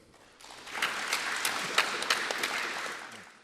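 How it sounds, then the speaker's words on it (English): A room full of people applauding guests introduced at a Burnley film makers' newsreel event, the clapping swelling in, holding with a few sharper claps, then tapering off near the end. "So could you give them all a round of applause?"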